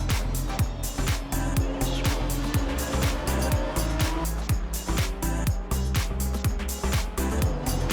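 Race cars in Assetto Corsa esports racing, including an Aston Martin, roar through fast gear shifts while overtaking, with repeated engine revs, downshifts and some tire squeal, loud and dense throughout.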